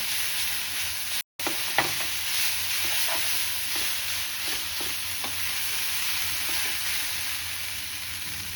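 Biryani masala is stirred into Maggi noodles in a hot pan, giving a steady close sizzle with repeated scraping stirs of the spoon against the pan, briefly cut off near the start.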